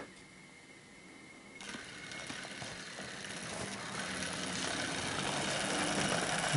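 A Hornby NRM Class A3 Flying Scotsman model locomotive in wartime black runs along track with a faint steady motor whir and light rattling that grows gradually louder as it approaches, with no voices.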